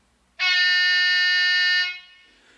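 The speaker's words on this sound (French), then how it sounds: "un klaxon grave." Low-pitched horn of a model SNCF BB 67417 locomotive in miniature railway scale, one sustained blast of about a second and a half with rich harmonics, starting abruptly and then tailing off.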